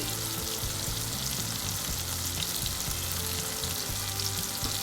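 Chilli powder, coriander powder and spices stirred in a pan for a vegetable curry, a steady close sizzle of frying with scraping stir strokes, continuous and even, no voices.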